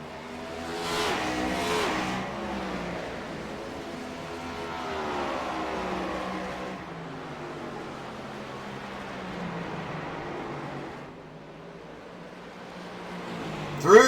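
Race car engine at Gateway roaring and revving steadily for the whole stretch, with a brief higher whine early on and a sharp burst right at the end, loud and continuous with no talk.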